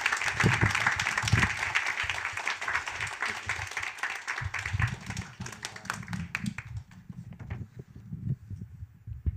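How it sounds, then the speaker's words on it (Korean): Church audience at a winter adult Bible school breaks into loud, sustained clapping to welcome a guest speaker, dense at first and thinning toward the end, with some voices mixed in. "나오실 때 박수로 크게 환영하겠습니다"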